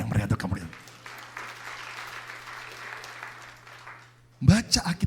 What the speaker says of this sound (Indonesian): Tepuk tangan yang meriah untuk kamu.